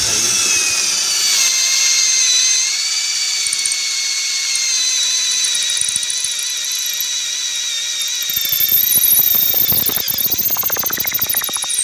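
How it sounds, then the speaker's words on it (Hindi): An impact drill bores into concrete, its motor whining steadily and loudly at close range for several seconds. Near the end, a rough rattling hammer action grows as the bit grinds into the surface. "दूसरी जो टेस्टिंग है वो हम कंक्रीट पे करेंगे।"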